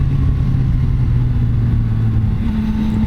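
A Yamaha Tracer 9 motorcycle engine drones steadily on an open road, a loud close mid-pitched hum with the tone shifting upward near the end as it accelerates.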